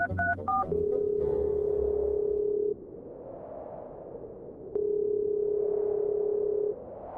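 Repeated ringback tones on a phone call to a minister that goes unanswered, long steady beeps with pauses over a low hum, preceded by a few quick dialing tones.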